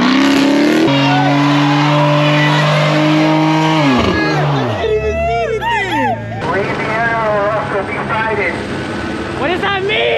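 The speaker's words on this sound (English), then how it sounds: "Yeah, you hear that engine, buddy?" Cars rev their engines at a car meet of muscle cars, Scat Packs and foreign luxury cars, with loud sustained engine drones and pitch sweeps as revs rise and fall, under people talking nearby.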